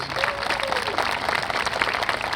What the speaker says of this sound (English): A round of applause for their support, please.